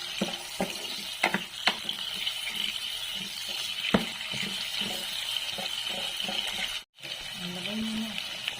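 Garlic, onion and tomato sautéing in a pan for a bottle gourd and pork dish: a continuous soft sizzle with scattered clicks and scrapes of stirring, close up, with quiet voices in the background.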